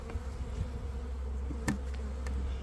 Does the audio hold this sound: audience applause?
no